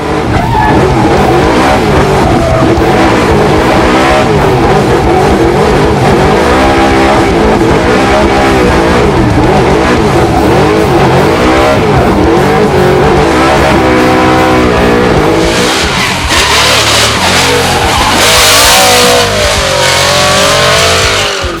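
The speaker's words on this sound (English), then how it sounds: "having a blast, shredding Rod Millen's driveway" A Ford Mustang RTR Formula Drift car drifts at the Leadfoot Festival in New Zealand, with a roaring engine revving hard and continuous tire squeal. It sounds very loud and close, and the engine note rises and falls throughout.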